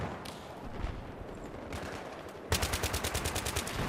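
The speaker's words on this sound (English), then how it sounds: "I just shot that guy in the legs." Gunfire from Battlefield 3 crackles in scattered shots before a rapid automatic burst of evenly spaced rounds takes over near the end, fairly close and sharp.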